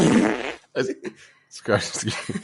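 A comedic fart sound from the animated film Lilo & Stitch 2, loud and up close, delivered as a sputtering voice imitation in several bursts.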